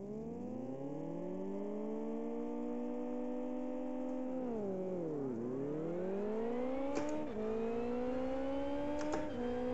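Formula race car in the Live for Speed racing game revving up through rising harmonic engine tones, dipping briefly, then climbing again with sharp gear-shift blips; steady and loud throughout, no voices.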